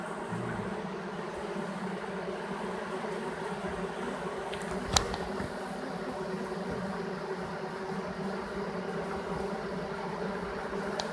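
A virgin swarm of honey bees with many queens drones in a dense, continuous buzz, close and steady throughout, with one sharp knock partway through.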